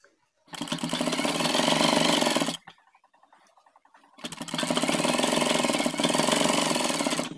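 Sewing machine stitching a folded cloth cuff, running in two long loud bursts of steady rapid mechanical stitching separated by a short quiet pause with faint handling noise.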